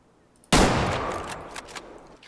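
A single loud .270 rifle shot rings out in the hunting game Way of the Hunter, fired at a bighorn sheep: a sharp blast followed by a long, fading rolling echo, with no talk over it.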